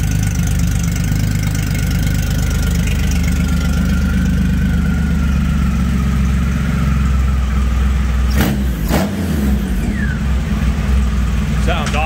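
A Rockville Rocket engine with a stainless exhaust runs steadily on a dyno, its loud, continuous drone close and unbroken for the whole stretch.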